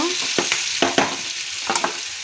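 Vegetables for a water-free malabar spinach (bacchali) curry fry in a hot pan, a bright sizzling hiss broken by several sharp scraping strokes as the pieces are stirred.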